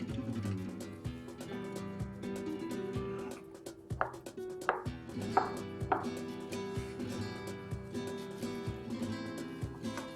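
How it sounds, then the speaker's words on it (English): A knife cuts a ripe banana in a kitchen, with a steady series of close, crisp chops running throughout over a soft background music bed. "let's move on to peeling and cutting a ripe banana"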